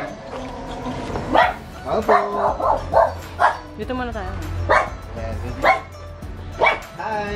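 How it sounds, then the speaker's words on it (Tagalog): A dog barks repeatedly at a house visit, sharp yips and barks recurring in bursts near the microphone while people talk over it in Filipino. "May aso. May aso."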